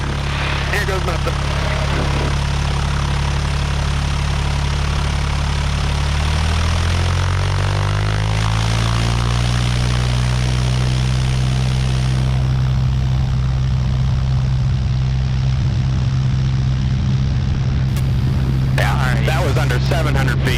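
A small propeller airplane on a short dirt airstrip runs up its engine to full power for a takeoff, the loud steady drone rising in pitch and then holding, with a brief crackle of talk near the end.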